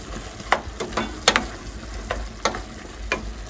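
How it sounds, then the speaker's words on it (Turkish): Chopped fresh okra sautéing in a pan, with a soft sizzle underneath and a series of sharp, irregular pops and crackles standing out close by. "Şöyle birazcık kavrulsun."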